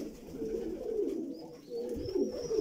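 Pigeons cooing in a loft, a steady stream of low, throaty coos from several birds close by, continuous and moderately loud with faint chirps above.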